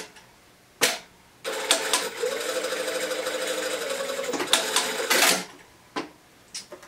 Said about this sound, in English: we're going to sew this whole diagonal line just from here all the way here at a quarter of